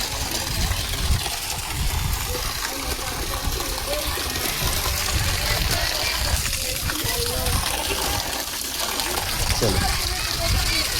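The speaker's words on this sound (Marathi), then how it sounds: "गौमुखातून पाणी पडत आहे" Water pouring steadily from a cow-mouth spout at a Shiva temple, a continuous loud gushing splash filling the whole span without pause.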